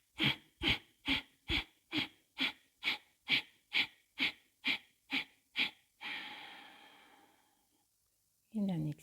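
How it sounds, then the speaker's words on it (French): A person doing breathing exercises gives a series of twelve short, sharp, bellows-like exhales in a steady rhythm, then one long, drawn-out breath out before a pause and a fresh breath. "Expire en soufflet."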